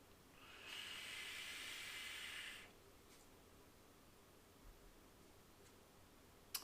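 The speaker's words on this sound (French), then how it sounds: "Super bonne vapeur, pleine de saveurs, bien dense." A Flave atomizer from Alliancetech Vapor drawn with its airflow fully open gives one airy, hissing inhale of about two seconds, close and fairly soft, followed by near-quiet with a few faint ticks.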